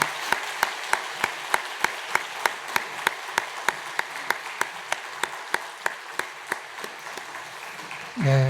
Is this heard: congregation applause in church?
yes